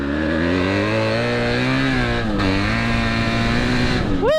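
A big dirt bike engine roars loudly and close as it accelerates up a short hill, its pitch climbing and dipping with throttle changes before revving sharply again at the end.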